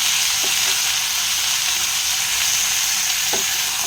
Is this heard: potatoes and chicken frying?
yes